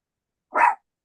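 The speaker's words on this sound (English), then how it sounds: "That's my dog." A single short dog bark, close and fairly loud, sounding once in an otherwise silent moment inside an RV during a home sewing session.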